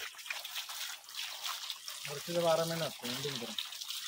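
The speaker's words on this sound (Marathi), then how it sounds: "तिथं आहे ती गायमुख, वरून पाझरून पाणी येते" A steady thin trickle of seeping water runs from a pipe at a cow-mouth spout, with a person briefly speaking partway through.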